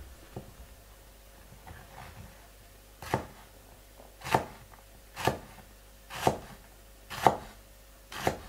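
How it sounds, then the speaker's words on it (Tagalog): Garlic is minced with a knife on a board: a few soft taps, then about six sharp, evenly spaced chops roughly a second apart, close and fairly quiet with no voices. "Pipinuhin natin ito. Parang yung ganitong bawang."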